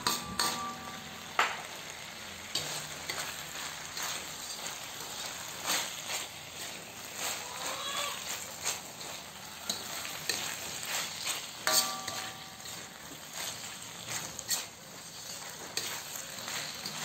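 Snap peas and pork sizzle in a hot pan while a utensil stirs and scrapes through them, producing steady frying hiss with irregular close clatters throughout.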